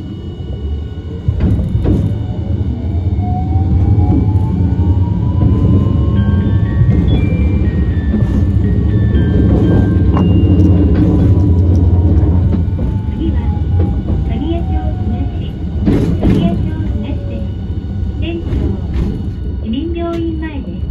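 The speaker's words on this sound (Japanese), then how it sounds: "電車が動きます。" A Hiroshima Electric Railway 1000-series PICCOLO tram on Line 1 pulls away and runs along the street. Its motor whine rises in pitch over a steady rumble and rail clatter, with onboard announcement voices at times.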